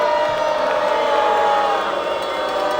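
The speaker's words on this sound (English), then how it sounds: "a foul there that's not making the crowd too happy" At an NBL Canada playoff basketball game between the Halifax Hurricanes and the Saint John Mill Rats, a crowd reacts with a loud, sustained murmur of displeasure after a foul, filling the arena continuously.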